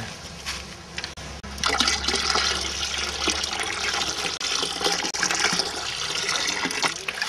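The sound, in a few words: liquid poured from bucket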